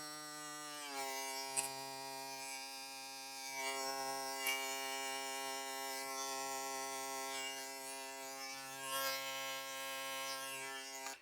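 A VGR 015 hair clipper with a vector motor, fitted with ZSZ blades, switches on and runs with a steady close-up electric buzz for about ten seconds, its pitch wavering slightly under load.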